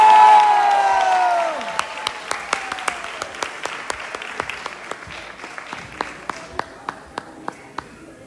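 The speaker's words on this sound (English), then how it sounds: "Give them another round of applause, please." An audience applauds Krishna and Balaram performers at a Sri Krishna Janmashtami celebration, a dense burst of clapping that fades over a couple of seconds into scattered, isolated claps, with a tonal chime trailing off at the start.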